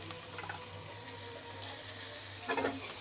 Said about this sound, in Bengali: এবার ভালো করে সাদা তেল আর বাটারের সাথে ভালোভাবে পেঁয়াজ রসুনটা একটু ভেজে নেব